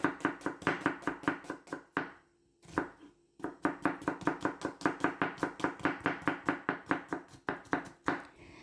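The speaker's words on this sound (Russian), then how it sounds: "Режем лук как можно тоньше." A knife chops rapidly and steadily on a cutting board, slicing onion thinly with quick even strokes and one brief pause, close and fairly quiet.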